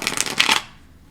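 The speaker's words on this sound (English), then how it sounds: "Let's give that one more shuffle." Tarot cards shuffled in a quick riffling burst of soft papery rustles for about half a second, close and fairly loud, then stopping abruptly into near silence.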